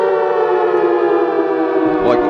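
A loud siren sound effect holds a steady, wailing tone from start to finish, with a brief swoop near the end and no voices heard.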